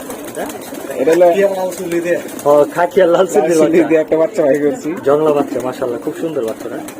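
Homing pigeons and their wild-coloured squabs in a loft give low, repeated cooing under steady nearby conversation.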